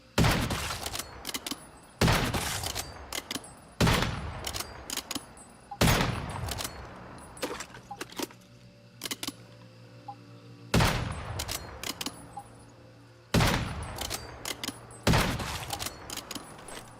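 Repeated bursts of gunfire in the survival shooter Once Human, fired in short rapid volleys separated by brief pauses, loud and close, with a low engine-like hum under the quieter gaps.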